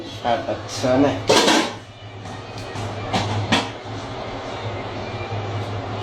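Neyyappam batter being mixed in a metal pot in a Kerala kitchen, with scattered clanks and scraping knocks of utensil against vessel over a low steady hum, while someone talks throughout.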